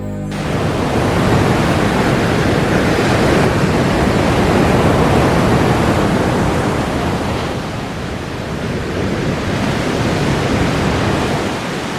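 Steady roar of ocean surf with waves breaking continuously, broad and loud, filling the whole stretch without pause under a wash of wind.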